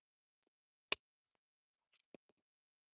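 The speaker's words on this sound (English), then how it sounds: "I am just butting my scissors up against the edge of that tag" Scissors closing at the edge of a freshly glued paper tag during stamping crafts: one crisp snip, then a couple of faint small clicks, close and quiet with no talking.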